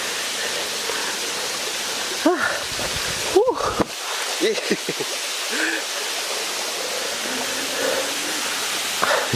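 Olon Halas waterfall in Caghalo, Carigara, Leyte roars as a steady, dense broadband wash throughout, with brief voices talking over it in a few spots.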